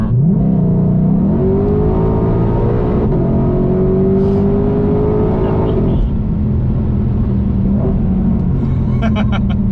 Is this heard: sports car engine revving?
yes